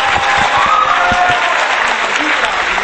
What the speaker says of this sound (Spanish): te damos con un fuerte aplauso